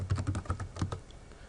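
Keystrokes on a computer keyboard entering a network command at a command-line prompt, a quick burst of about ten close, crisp taps over roughly a second, then quiet.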